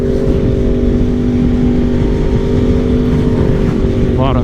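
A 2024 Yamaha R1 sport bike with a flashed ECU and quick shifter pulls away hard with a loud, steady engine drone and heavy wind rush, and the pitch starts to climb near the end.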